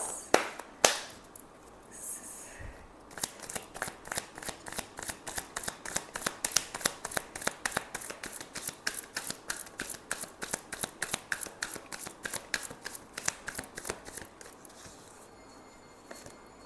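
Tarot cards are riffled and shuffled in a long run of rapid, crisp flutters, pausing briefly near the start before a steady rhythmic stream of close card slaps, with no talking.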